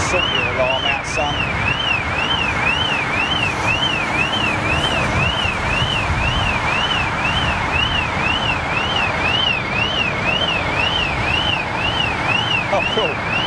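A car alarm wails loud and close in a rapid, continuous up-and-down warble near an airport where a Boeing 747 is on its final flight, sounding over steady background noise, with a voice talking at times.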